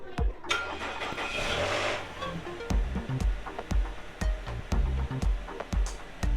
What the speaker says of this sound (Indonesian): Oke, lanjut kita nyalain mesin dulu.